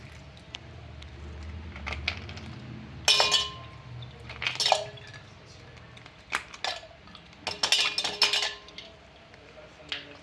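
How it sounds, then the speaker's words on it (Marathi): Ice cubes dropped into chilled buttermilk (mattha) mixed with chili-ginger-garlic paste, clinking and rattling in clustered bursts against the container over a low background rumble. "आणि त्यावर आपल्याला आईस क्यूब टाकायचे"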